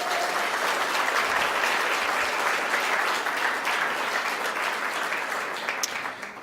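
An audience at a Portland Art Museum exhibition event claps for Jordan Schnitzer, a dense, sustained wash of applause from many hands that holds steady and eases off slightly at the very end.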